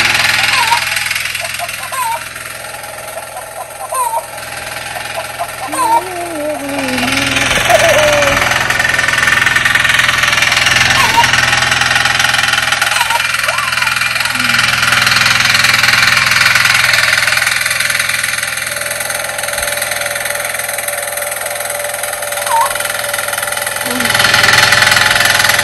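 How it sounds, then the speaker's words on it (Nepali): Tractor engine ploughing a maize field, a steady mechanical chugging and rattling that swells and fades as the machine moves, with voices talking briefly in the background. "अहिले ट्र्याक्टरले जोत्न थाल्यो"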